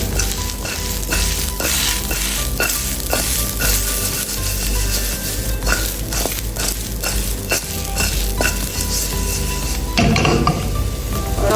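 Sliced capsicum and onion fry and get stirred in a pan for chilli fish fry, giving a loud, continuous sizzle with repeated scraping strokes of a spoon against the pan.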